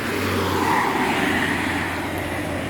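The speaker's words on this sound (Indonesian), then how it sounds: "Ini unit pertama dari NPM, dari Transfer Express yang akan berangkat" A medium bus from the Transfer Express unit of NPM pulls away, its engine roaring loud and steady at close range with no talk.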